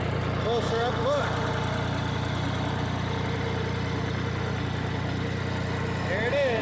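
A tractor engine idles and runs steadily close by while the machine is moved near a Woodland Mills HM122 sawmill track, a constant low mechanical drone throughout with brief faint voices.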